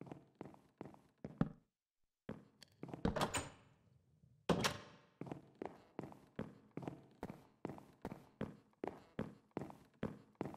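Spruce doors are placed one after another in modded Minecraft, a steady run of short wooden thunks in even rhythm after a few scattered knocks and a brief pause, close and clear with no talk.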